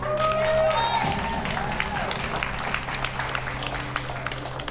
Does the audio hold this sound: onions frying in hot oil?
no